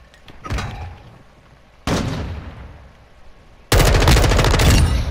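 Gunshots in a video game, three separate bursts of firing, the last one loud and rapid like a close automatic volley, with decaying tails between them.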